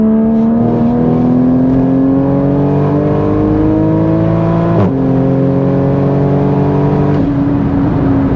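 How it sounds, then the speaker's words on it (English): A turbocharged Toyota Supra MK5 engine revs hard at full throttle through the gears, its pitch climbing steadily, dropping sharply at each shift, then rising again; loud and close, heard from inside the car. "we'll do an 80 mile per hour pull"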